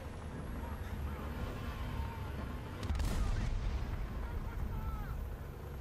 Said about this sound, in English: call artillery on C point